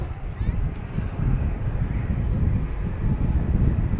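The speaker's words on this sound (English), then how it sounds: "EasyJet 319 is on the move according to Flight Radar" EasyJet Airbus A319 taxiing at London Luton Airport, a steady low jet-engine rumble that holds an even level throughout without rising to takeoff power.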